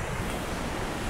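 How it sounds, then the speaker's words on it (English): Rushing water of the River Clyde pouring over a dam near New Lanark, a steady broadband roar that stays constant and close throughout the short moment, with no voices. "It's got a kind of a dam here that's stemming the flow of the water."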